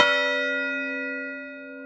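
A single church bell struck by hand rings out, clear and resonant, its tone sustaining and slowly fading over nearly two seconds.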